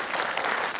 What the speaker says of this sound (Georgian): გადასარევი აპლოდისმენტები, ესეთი ყოფილა.